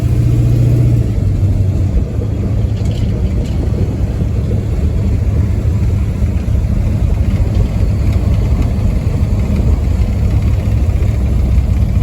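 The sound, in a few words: big block 440 1970 Plymouth Fury III engine with Flowmaster exhaust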